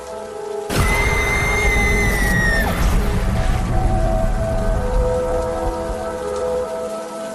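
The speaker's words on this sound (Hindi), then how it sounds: "इतनी तेज बारिश और गरजते हुए बादलों के बीच रात गुजार पाना शॉन के लिए बहुत मुश्किल हो जाता" Heavy rain pours steadily in the Evil Nun horror game, a dense loud downpour with a low rumble of thunder underneath, plus a brief tonal whistling sweep near the start.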